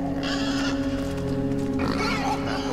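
Pig from the video game Inside grunts and snorts loudly over a droning, busy game soundscape, with a heavier rough burst near the end.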